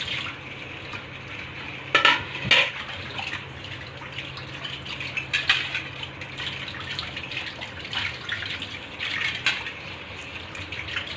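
Dishes being washed one by one at a kitchen sink: steady running tap water with intermittent clinks and clatters of plates and utensils, close by, no talking.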